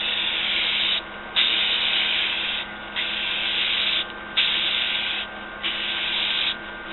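A rattle can sprays clear coat in repeated bursts of steady hiss, each lasting one to one and a half seconds, separated by brief pauses, close and loud with no talking.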